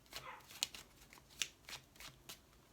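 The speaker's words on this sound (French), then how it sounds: "on va ici recouvrir ces cartes" Oracle cards are laid down and covered on a table in a series of soft, papery slaps and slides, quiet and close, with a few sharper snaps among them.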